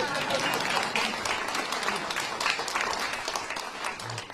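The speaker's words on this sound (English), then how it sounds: "That is an applause." Members of Congress on the House floor applaud, a dense burst of many hands clapping that swells and holds, with a few voices mixed in.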